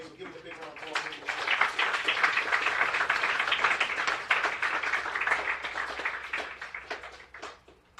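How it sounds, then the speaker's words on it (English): Audience applause after a leadership and motivation talk, a dense, steady wash of many hands clapping that holds for several seconds and thins toward the end. "So give him a big round of applause."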